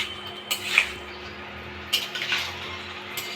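A spoon stirs chicken curry in a cooking pot, making a few separate scraping clinks against the metal, with short pauses between strokes.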